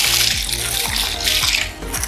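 Distilled water poured into a container for making organic soap, a close, steady splashing stream with a few gurgling pulses.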